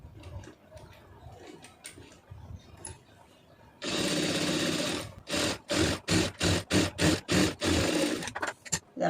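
A sewing machine stitches blouse fabric, first in one long steady burst of several seconds, then in a series of short rhythmic bursts with brief gaps, close and fairly loud, with quiet handling beforehand.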